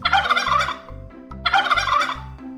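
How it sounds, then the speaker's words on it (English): A turkey on a farm gobbles twice in quick rattling bursts, close and clear, each burst a rapid bubbling warble with a short pause between, no voices present. "turkey"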